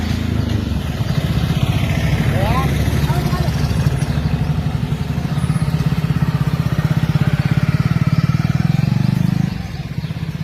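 A motorcycle engine runs close by with a steady, loud drone for about nine seconds, then drops away near the end, while people talk over it.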